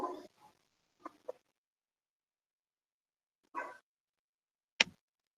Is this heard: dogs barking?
yes